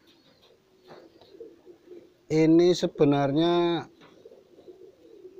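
A rambonan pos Jawa pigeon gives a loud, drawn-out pair of harmonic coos at close range, preceded and followed by someone speaking quietly.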